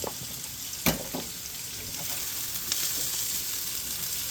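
Potatoes fry in a hot skillet as they brown, giving a steady close sizzle and hiss with one sharp clatter near the start.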